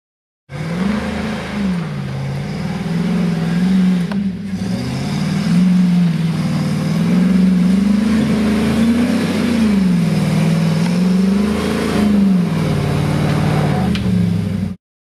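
An off-road vehicle on Dana 30 and 35 axles climbs a hill. Its engine revs close and loud in wavering surges that rise and fall as it strains upward, with no voices.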